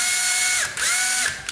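A cordless RZT109 drill with a 13 mm chuck runs under test, giving a close, high mechanical whine that dips and recovers a few times as its speed shifts.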